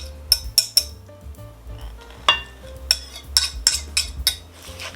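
Cutlery clinks and scrapes against a bowl while sugar and butter are mixed with another mixture for Polish Easter bread with raisins, a series of sharp close taps over several seconds with no talk.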